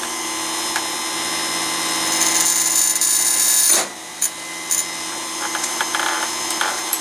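A chainsaw sharpener grinds against a chain tooth, a steady high whining buzz that runs continuously, cuts off abruptly partway through, then returns as short intermittent touches, loud and close with no talking.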